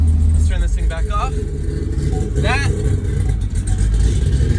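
A Corvette drift car engine runs at a steady, loud idle up close, with a deep rumble holding throughout while a voice talks briefly over it.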